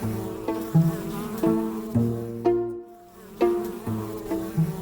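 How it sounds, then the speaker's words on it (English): A bee buzzing close by as it visits flowers for nectar, its drone rising and falling in pitch in repeated surges, with a brief gap as it moves off and comes back. "After the bee departed, many more came in a flurry of activity."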